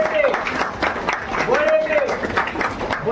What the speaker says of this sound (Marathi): तुम्हाला मी त्याचं टाळ्या वाजवून स्वागत करा